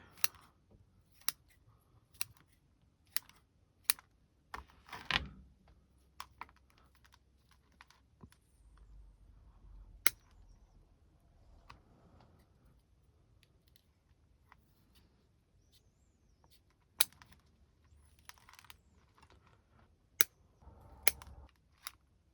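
Scissors trim back the roots of an Eastern redbud root-over-rock bonsai, giving sparse, sharp snips spread out with quiet gaps between them, close and fairly faint.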